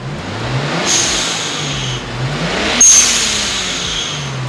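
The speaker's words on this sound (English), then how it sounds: "I just want to give it a few revs and we'll watch the blow-off valve" A warmed-up Nissan R32 Skyline revs up and down in short blips, each throttle lift followed by the hissing whoosh of an HKS blow-off valve venting, loud and close with no talking.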